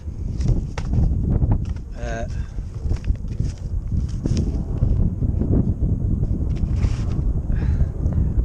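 Gusty wind buffets an outdoor microphone with a steady low rumble, while a person talks over it.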